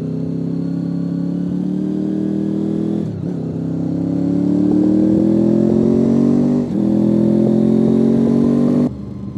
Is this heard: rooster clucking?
no